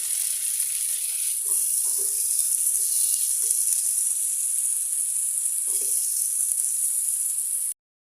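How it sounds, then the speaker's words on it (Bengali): Chopped onion and tomato fry in a pan with a bright, steady hiss that runs throughout, broken by a few soft stirring knocks, then stops abruptly near the end. "টমেটোগুলো দিয়ে আমি এক মিনিটের মতো ভেজে নিয়ে আসি"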